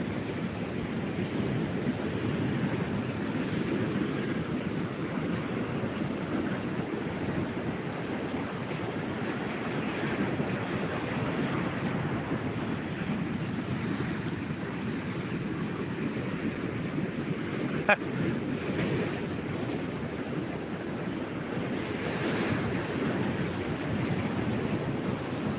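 Waves wash onto a Gulf beach under steady wind, a soft, even, unbroken rush that holds at a constant level throughout with one faint tick near the end.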